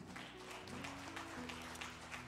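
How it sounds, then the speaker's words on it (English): A Sunday service congregation claps for the offering, the quiet, scattered applause heard over sustained organ-like musical tones in the background. "Let's give a round of applause for the offering."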